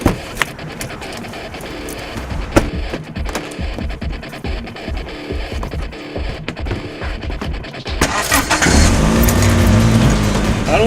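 A car engine at a low idle with intermittent clattering and mechanical noise, then a louder surge around the eight-second mark as it pulls away and accelerates.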